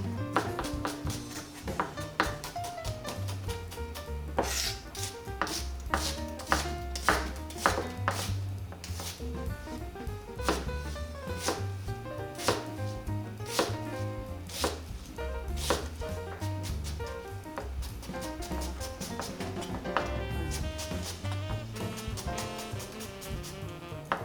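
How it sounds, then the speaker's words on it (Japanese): A knife coarsely minces ingredients for pineapple fried rice on a cutting board, a steady run of quick, crisp chops that keeps going with few pauses. "こちらもこのくらい、ちょっと粗めのみじん切り"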